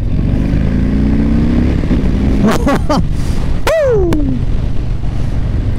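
A Harley Davidson Low Rider S 114 motorcycle engine rumbling close by, then blipped in a few sharp revs that rise and fall quickly, one louder rev near the middle, over a steady idle.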